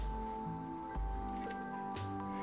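Wet, squishy squelching of sulfate-free, non-foaming cleanser worked through fully coated wet hair, a few soft moist squeezes and drips repeating steadily at close range over a low background hum.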